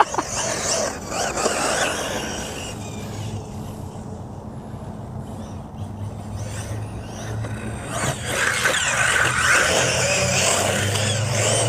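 A 1/8 scale RC buggy's engine runs on a track, a high buzzing whine that rises and falls with throttle, loudest at the start and end, with no talk.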